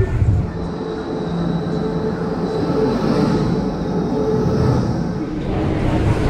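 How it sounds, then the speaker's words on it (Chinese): A passenger train travels from Taipei to Jiaoxi with a loud, continuous interior rumble and a faint high whine, steady throughout with no talking. "我们现在就准备去搭7:30的火车"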